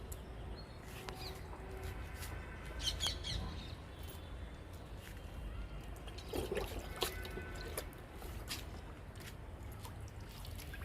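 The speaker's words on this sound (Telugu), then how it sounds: "ఈ రెండు పౌదులకు కూడా లిక్విడ్ ఇస్తున్నా" Homemade liquid fertilizer of lentils, chickpea cake, tea powder and egg powder is poured onto fruit plants, giving faint trickling and dribbling with light splashes and a few distant bird chirps.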